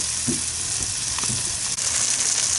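Swordfish steaks sizzling on a hot grill, a dense unbroken frying hiss with a few soft shifts and pops, close and steady without talk.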